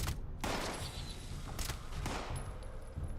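Sniper rifle fire in Fallout 76 rings out in several loud, sharp cracks spread across the clip over a dense, noisy game background.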